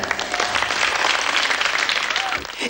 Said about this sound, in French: nous allons applaudir très fort nos courageux participants